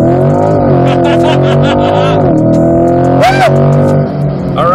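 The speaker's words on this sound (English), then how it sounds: "I've never driven a car that accelerates this quickly." A Chevy C8 Corvette uses launch control to accelerate hard on a dusty, windy track, its engine note rising through loud revs with a quick gear change partway through, heard from inside the car.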